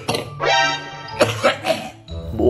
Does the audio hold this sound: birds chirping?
no